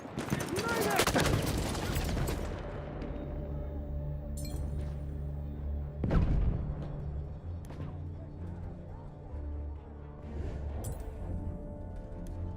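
A grenade blast and gunfire ring out in Battlefield 1, with a heavy burst near the start, another thump around the middle and scattered shots and clinks through the rest.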